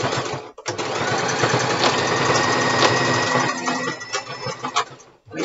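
A sewing machine runs steadily as it stitches forward and backward over mask elastic, a close, continuous mechanical whir. The motor stops briefly near the start and breaks into short bursts toward the end.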